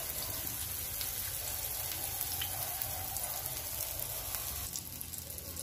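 An eggplant omelette with tuna frying in a pan, a steady close crackling sizzle with fine popping that continues without pause.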